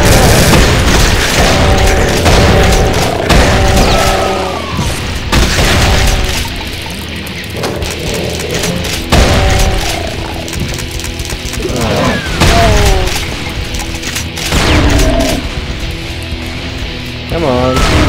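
Gunfire and explosions from the video game Brutal Doom 2 come as loud repeated booming blasts and bursts of shots, dense and continuous, with someone talking over the combat at times.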